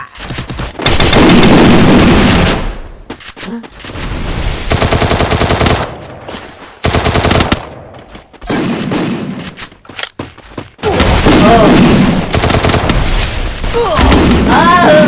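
Heavy gunfire and explosions in the Free Fire battle game, with loud bursts of automatic fire and booming blasts in repeated clusters, broken by short lulls. Players' voices come through faintly under the shooting.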